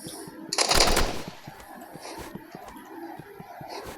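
A primary weapon fires rapidly in the video game Rivals, with one loud dense burst early on and then a run of quicker, softer shots.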